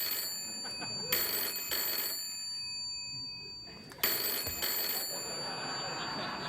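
Telephone ringing on a late-night talk show set, two bursts of bright electronic ringing separated by a quiet gap, clear and close.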